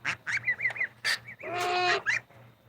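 Geese honk in a rapid series of short calls, then one longer, harsher honk, close and loud, with no talking over them.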